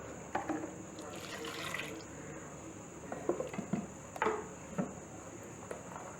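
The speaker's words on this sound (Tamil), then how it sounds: "இப்போ இதில் எவ்வளோ தண்ணி ஊற்றணும்?" Water poured into urad dal batter for kanji in a kitchen, a soft intermittent trickle and splashes, quiet and close, with a steady insect-like whine in the background.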